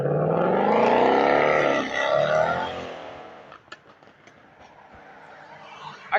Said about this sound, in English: I can't stand these loud ass cars.